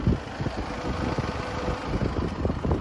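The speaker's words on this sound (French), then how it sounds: "Écoutez la sonorité du moteur diesel." A BMW X1 23d diesel engine heard from outside the car, a steady low rumbling idle with a faint mechanical clatter, moderately loud and continuous with no talking.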